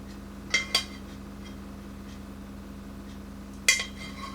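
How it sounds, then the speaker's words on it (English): Metal spoon scraping and clinking against a roasting pan while scooping juices over meat, two quick clinks early and another near the end over a low steady kitchen hum. "Then scoop some of the juices out of the pan"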